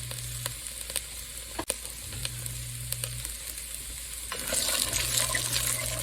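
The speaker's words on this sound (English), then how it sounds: "Once we mix this in, we don't want to hear too much of a sizzle when we're sweating." Vegetables gently sweating in a Dutch oven for chicken noodle soup, a soft steady sizzle with faint clicks and a brief clatter, growing slightly brighter toward the end.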